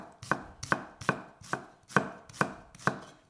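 A knife slices through half a red onion on a cutting board, seven crisp, evenly spaced chops about half a second apart, close and clear with no voices.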